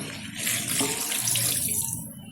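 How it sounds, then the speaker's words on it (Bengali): Water pours steadily into a pan of rohu fish curry with ridge gourd, a continuous close splashing stream lasting a couple of seconds before tapering off. "দিয়ে দিচ্ছি পরিমাণ মতো জল।"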